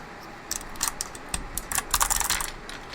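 Fast keystrokes on an MX-Mini keyboard fitted with Ergo Clear switches, a run of close, crisp clacks in uneven bursts that grows busier toward the end, with no talk over it.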